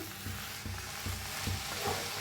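Methi bhaji being stirred in an iron tawa, with a low sizzle running underneath and a spatula scraping the pan in repeated strokes about every half second, close by and with no voices.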